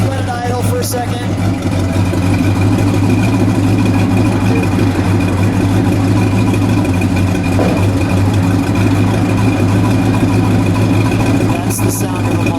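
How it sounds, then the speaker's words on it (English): Deep, steady, rumbling idle from the 426 Hemi V8 of a 1969 Dodge Charger, loud and close, holding an even low drone with no break throughout. "Just let it idle for a second."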